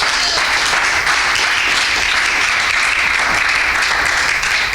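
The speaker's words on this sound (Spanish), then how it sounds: "Denle un aplauso fuerte en esta hora." A large crowd applauds loudly and continuously, dense clapping filling the whole stretch without pause.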